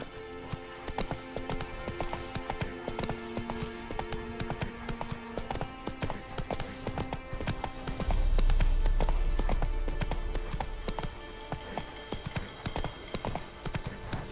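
Roach the horse gallops in The Witcher 3 next-gen, hooves clip-clopping in a steady fast rhythm over a dense bed of game sound, with a deep rumbling swell partway through.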